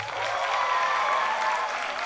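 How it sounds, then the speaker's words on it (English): A live storytelling audience at a Moth Mainstage show in Nairobi bursts into steady, dense applause, a full-room wash of clapping that holds evenly and loud throughout, with no voices over it. "Can we get another round of applause to those who listen to the Moth podcast?"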